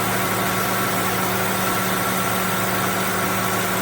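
A 2002 Ford Crown Victoria engine with a new alternator idles steadily, close and fairly loud, a smooth hum with a low throb and no squeal.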